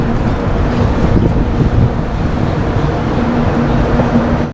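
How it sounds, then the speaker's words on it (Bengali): A Saraighat Express train pulling out of the station, heard from inside as a loud, steady low rumble and rattle of the moving carriages, with no voices over it. "ট্রেন ধীরে ধীরে স্টেশন ছেড়ে এগিয়ে যাচ্ছে"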